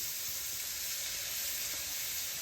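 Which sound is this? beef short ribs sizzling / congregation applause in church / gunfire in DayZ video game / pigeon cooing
beef short ribs sizzling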